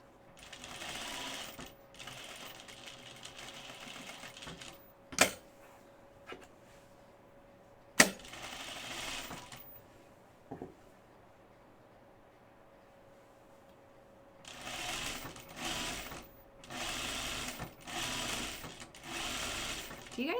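A home sewing machine stitches a dress in bursts of steady mechanical whirring, broken by pauses and a few sharp isolated clicks, with a faint background tone throughout.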